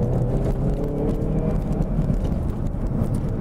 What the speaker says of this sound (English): Oh, and the exhaust.